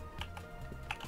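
Quick keystrokes on a computer keyboard while entering a Linux command, a short run of light, close clicks with one sharper tap near the end.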